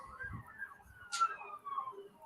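Emergency vehicle siren from outside on a highway, a faint wailing tone drifting in the distance beneath low voices and background noise.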